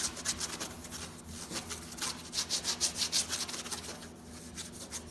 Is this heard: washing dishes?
no